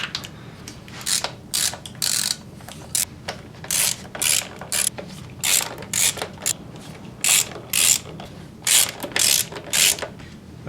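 A ratchet spins out 10mm valve cover bolts on a Honda Civic 1.7L SOHC engine, close, crisp bursts of rapid clicking in repeated short runs separated by brief pauses.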